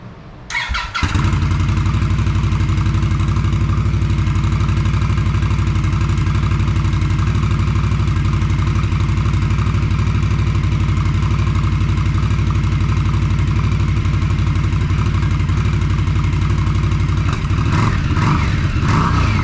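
A 2022 Indian Scout Bobber motorcycle cranks over and fires up after about a second, then settles into a loud, steady idle close by, with a slight squeal on top and a few blips near the end.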